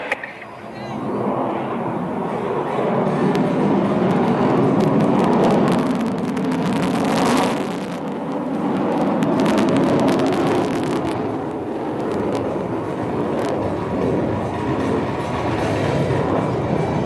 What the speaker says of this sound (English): இப்பொழுது டம்பிள் செய்து உங்கள் முன்னால் குட்டிக்காரணம் அடித்து வருவது Su-30